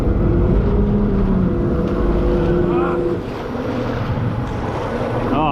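A fishing boat driven at sea off Exmouth, its engine droning loud and close with rushing wind and water noise throughout, and a slight dip in level partway through.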